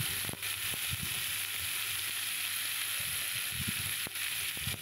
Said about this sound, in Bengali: দেখো, ভালো করে নেড়ে নেব।